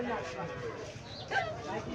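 Calf mooing at an outdoor cattle market where a Sahiwal heifer calf is being sold, a single drawn-out low moo heard amid people talking nearby.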